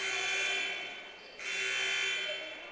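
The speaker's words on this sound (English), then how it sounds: "slight malfunction with the buzzer there, but it got worked out" A malfunctioning game buzzer in a college men's basketball gym sounds as a loud, harsh electronic drone, dipping briefly in the middle before resuming at full strength.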